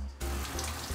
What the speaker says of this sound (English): I'm gonna go have a shower.